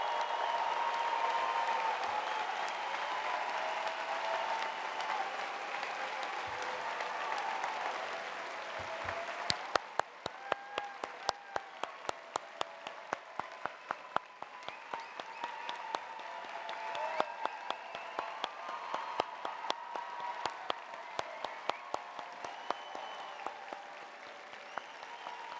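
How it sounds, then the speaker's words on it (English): A large convocation audience applauds the graduates in a long, sustained round of clapping from a distant hall, with crowd murmur and sharp individual claps standing out as it goes on. "Let's please have one more round of applause for all of our graduates here today."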